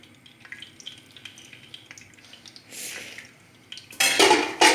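A spoon stirs homemade village yogurt in a bowl with scattered soft clinks and scrapes, ending in a louder burst of clattering and rustling.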